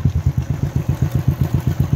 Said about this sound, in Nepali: त फेरि अहिले जाँदैछु बाइकमा जाँदैछु